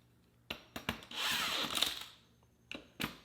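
A power drill tightens the bolts on an ATV bead lock wheel fitted with 28-inch System 3 XM310 mud tires, heard as short close trigger bursts, then a longer whining run with a rising pitch, then a few more quick bursts.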